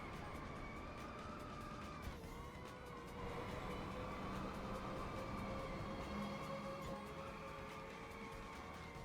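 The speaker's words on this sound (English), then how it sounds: "That's a nice super drift, very sharp." Racing game car engine in Inertial Drift holding a steady drone through a long drift, with sustained tonal whine and a brief dip around two seconds, fairly even and continuous throughout.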